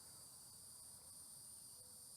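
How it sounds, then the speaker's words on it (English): Crickets chirp in a steady, continuous high trill at a riverside park, a constant faint wash of insect sound with no talking. "You've got the sound of the crickets"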